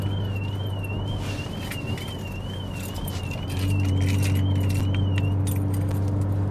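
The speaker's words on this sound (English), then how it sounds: "I guess you can set the alarm with the keys in your pocket." A car alarm is set by a key fob carried in a pocket: a short electronic warbling tone over a steady engine hum, with a jangle of keys and a rise in engine noise near the end.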